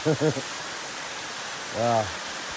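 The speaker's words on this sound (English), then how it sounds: "What a beautiful waterfall that is." A steady broadband rush of a mountain waterfall beside the Pacific Crest Trail at dawn runs throughout, with brief bursts of a voice near the start and again near the end.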